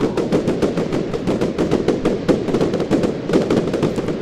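Fireworks explode in Roblox Lumber Tycoon 2 as a rapid, relentless string of sharp bangs and crackles, loud and dense like gunfire, with no talking over them.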